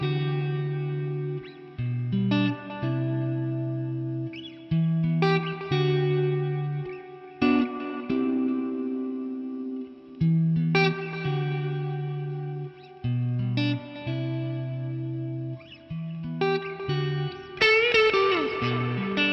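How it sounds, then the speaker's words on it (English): Electric guitar driven through a fuzz pedal, playing a thick, saturated riff of sustained chords and low notes in repeated phrases with short breaks, ending in a denser squealing flourish; loud, close and alone with no talk. "fuzz pedals are great for just all kinds of special moments"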